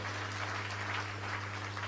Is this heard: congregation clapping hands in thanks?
yes